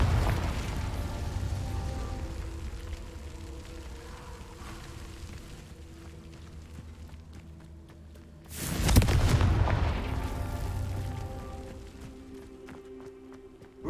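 A Confringo fire spell from Hogwarts Legacy bursts into a loud, close explosive blast partway through, its boom lingering over a low ambient game rumble that fills the quiet stretch before it.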